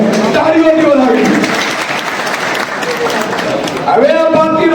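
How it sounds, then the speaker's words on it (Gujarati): A crowd at a political gathering applauds about 300 young Koli community workers joining the party, with steady, loud clapping through the middle while a voice speaks at the start and end. "એમને તાળીઓથી વધાવી."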